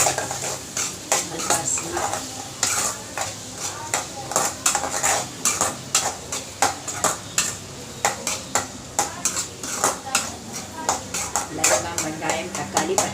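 Bay leaf, cloves, onion, tomato and green chilies sautéed in oil, with a metal spoon clinking and scraping against the pan in a steady, fairly close rhythm while a person talks.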